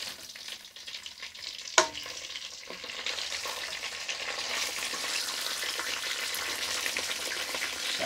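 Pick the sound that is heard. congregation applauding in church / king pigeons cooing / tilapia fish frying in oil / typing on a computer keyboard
tilapia fish frying in oil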